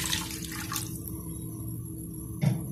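A cup of water is poured into melted butter and oil on a stovetop, a brief splashing rush that cuts into a quieter bubbling hiss, with a short thud near the end.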